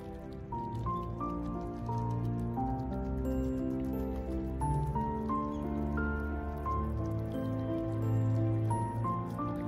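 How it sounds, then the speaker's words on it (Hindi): Hot water keeps streaming into a Japanese instant cup ramen to fill it, making a continuous near trickle with drips and squishy liquid sounds, set against a steady musical backing. "फुल भर दूंगा पानी कप में।"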